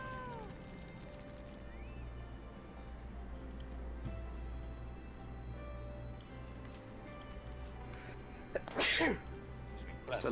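One loud, abrupt sneeze bursts out near the end of a long quiet stretch of faint ticking and soft background hum during a game stream.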